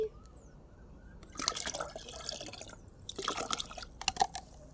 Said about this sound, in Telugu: దీన్ని అయితే డైల్యూట్ చేసుకుందాము ఇప్పుడు వాటర్తో